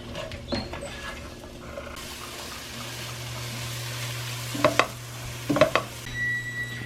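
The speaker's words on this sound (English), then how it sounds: "Stir it every so often." Mushrooms cooking in a pan, stirred now and then: a low steady sizzle with a soft background hum, broken by a few brief scraping clatters of the spoon against the pan.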